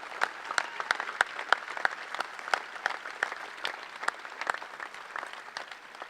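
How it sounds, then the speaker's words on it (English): Sparse, scattered clapping from an audience at an outdoor opening ceremony for a charity run, individual sharp claps ringing out at a fairly distant, moderate level with no talk. "let's give them a round of applause for the things they do each day"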